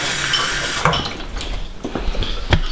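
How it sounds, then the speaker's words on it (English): Tap water runs into a container of oats and thick yoghurt for meal prep, a steady hiss that cuts off, followed by a few clinks and knocks of a spoon or dish. "Get a touch of water in there, because otherwise the yoghurt is very thick."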